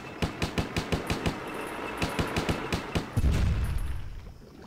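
In the video game Stubbs the Zombie, a cannon fires a rapid, evenly spaced volley of sharp shots, followed by a heavy rumbling blast that fades out.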